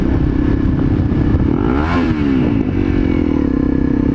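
Dirt bike fitted with a new FMF exhaust revs loudly and steadily up close, the engine note climbing and falling in a sweeping rev around the middle before settling back to a rough, continuous roar with some clatter.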